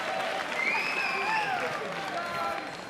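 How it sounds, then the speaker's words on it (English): Audience applause and cheering at a Team Fortress 2 esports event, a steady crowd clatter with whoops and voices rising over it, continuous for a few seconds before easing off. "guys, give a round of applause, please"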